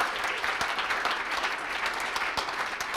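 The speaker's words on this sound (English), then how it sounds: "Round of applause." Audience at an evening event on dance and choreography in New York breaks into a steady round of applause, a dense patter of many hands clapping at moderate volume with no talk.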